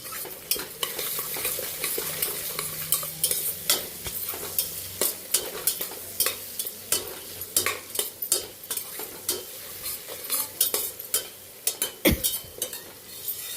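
Onions frying with turmeric for chicken biryani, stirred in a pan with a spoon that scrapes and taps in quick irregular strokes over a soft sizzle, close up with no voices.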